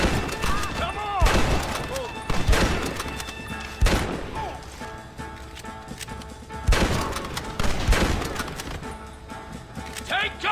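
Gunfire in a Western shootout from the video game Red Dead Redemption, repeated loud gunshots and bursts in an irregular rhythm, with shouting voices and game audio mixed in.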